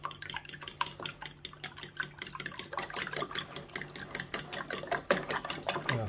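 Salted eggs beaten fast in a bowl for breading kashkaval cheese, a quick, steady run of light clicking whisk or fork strikes against the dish, close and alone.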